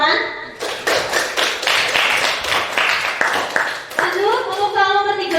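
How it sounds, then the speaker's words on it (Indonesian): A classroom of children claps hands together in a rapid, uneven burst of sharp slaps lasting several seconds, with kids' voices mixed in and a voice rising near the end. "Ayo tepuk tangan."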